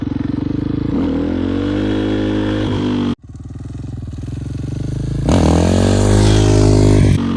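A 4-stroke motorcycle engine revs hard and loud through a clutch-up wheelie, cutting out sharply for an instant, then climbing back to a steady roar and surging again.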